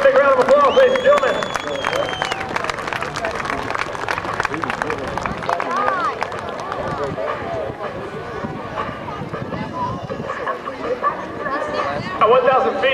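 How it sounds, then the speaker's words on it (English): Outdoor crowd at an air show, the NAS Patuxent River Air Expo, clapping and chattering in a loose, ragged wave with people talking over it throughout. "Let's give a big round of applause, ladies and gentlemen."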